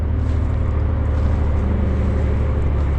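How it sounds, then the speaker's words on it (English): Distant coal truck or tractor trailer on a road a few hundred feet away, echoing at a riverside campsite: a steady low engine rumble and drone holds throughout, with no talk over it. "And I hear a coal truck. Or, well, some sort of tractor trailer."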